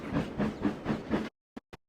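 A steam engine puffs away with its train in rhythmic, breathy chuffs under a steady rumble, close and fairly loud, then cuts abruptly to silence broken by a few short faint bursts.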